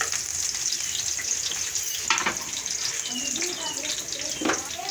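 Potatoes and peas for aloo matar sizzle steadily in a pan, a continuous frying hiss with occasional stirring scrapes and clinks, close and moderately loud.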